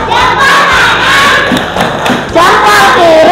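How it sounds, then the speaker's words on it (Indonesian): Schoolchildren in a classroom chant and shout together in the 'tepuk hebat' clapping chant, a loud, lively group of young voices with soft thumps running underneath. "sekarang coba tepuk hebat"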